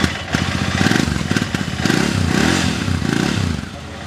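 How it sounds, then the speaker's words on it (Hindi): A 2019 Interceptor motorcycle with a double silencer runs close by at a used bike market, its engine throbbing in a lumpy, pulsing rhythm with rises in revs, loud and unaccompanied by speech. "बहुत प्यारी है, इंटरसेप्टर देख रहे भाई, बहुत प्यारी आवाज़ है।"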